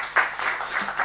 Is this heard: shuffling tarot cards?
no